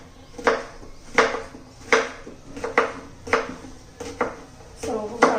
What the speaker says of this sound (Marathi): बारीक अशी चिरून घेणार आहोत